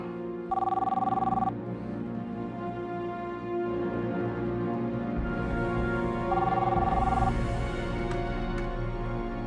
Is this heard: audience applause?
no